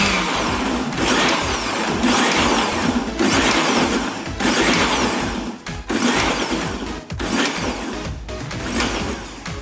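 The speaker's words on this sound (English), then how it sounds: "I'm trying to stop in between blending because I do not want it all smooth or too pureed" Kitchen blender pulsing okra for Nigerian okro soup, loud whirring bursts of about a second each, separated by brief stops, with a steady rhythm of pulses.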